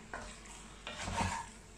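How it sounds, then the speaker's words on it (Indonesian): A tomato and lemon juice mixture is stirred in a pan, giving soft scraping strokes with a faint sizzle, two brief swishes followed by a slightly louder stir, quiet and close. "Terus kita aduk lagi."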